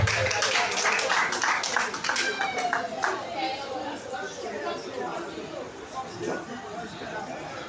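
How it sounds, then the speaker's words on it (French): Crowd applause and cheering at a talent-show final fill the room steadily, with chatter and voices mixed in throughout. "On applaudit très très fort."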